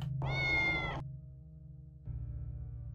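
A cat meows in the video game Tales of the Neon Sea, one drawn-out, close, harmonic cry followed by a quieter, shorter mew against a low, steady background hum.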